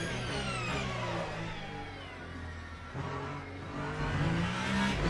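Le Mans Ultimate Hypercar engine droning at high revs while the car slides, pitch swaying with throttle changes and tire scrub beneath, continuous and close.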